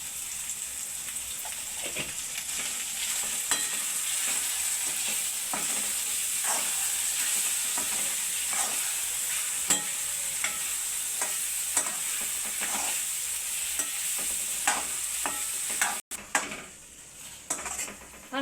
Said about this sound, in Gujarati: હાલો તો હવે આપણે એમાં મકાઈ નાખી દેવાની છે